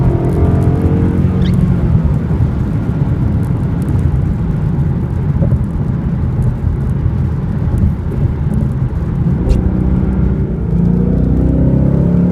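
A 2015/2016 Ford Mustang GT fastback with a 5.0L V8 drives on wet roads, a constant loud low engine and road roar with tire hiss from the wet surface, steady throughout with no voices.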